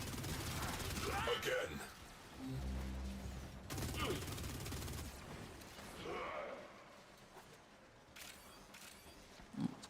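Bursts of gunfire in the Warframe video game crack out in rapid volleys during a fight, with a game voice speaking between the shots and a louder report near the end.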